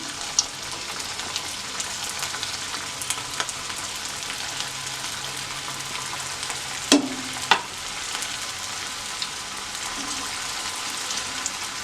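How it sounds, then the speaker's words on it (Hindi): Malai koftas frying in hot mustard oil give a constant fizzing sizzle throughout, with a couple of brief louder pops and splashes as balls are lowered in one by one. "ये गर्म हो चुका है अच्छे से। अब इसमें एक एक करके कोफ्ता डालेंगे।"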